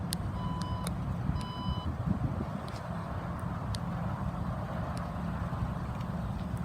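Warning beeps from the power tailgate of a 2017 Porsche Cayenne at a dealership: a few short, evenly spaced tones in the first two seconds, then quieter clicks over a steady low motor or idle rumble, with no talking.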